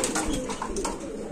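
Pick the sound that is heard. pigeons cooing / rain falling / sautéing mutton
pigeons cooing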